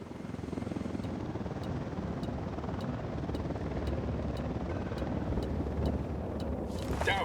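A helicopter in the video game Ghost Recon Wildlands gives a steady, broad rotor drone with faint regular ticks, continuous and moderately loud, ending in a brief rush of noise.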